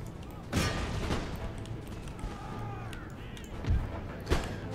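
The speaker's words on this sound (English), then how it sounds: "then a good old fashioned infantry shootout on the right flank" Infantry musket fire in Empire Total War, with scattered volleys and single cracks over a busy battlefield din, mid-distance and moderately loud, a few sharper reports standing out.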